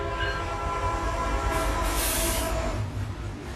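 A train on the Qinghai-Tibet Railway across the high plateau: a continuous rumbling roll of cars, with a brief airy horn-like blast midway before the rumble eases slightly.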